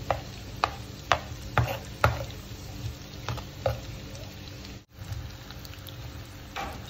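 Garlic frying in melted butter for a creamy tomato basil pasta: a steady sizzle under repeated clicks and taps from stirring, at moderate volume with no voice.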